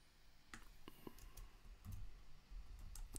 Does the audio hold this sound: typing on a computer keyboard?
yes